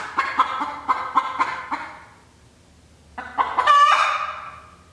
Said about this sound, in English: This chicken's gonna drive me nuts